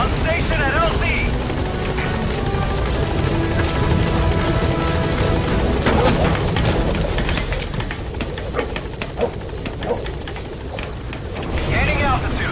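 B-Quad helicopter arriving in Metal Gear Solid V: a continuous rotor thrum and engine drone under game sounds and bird coos, while a radio voice speaks.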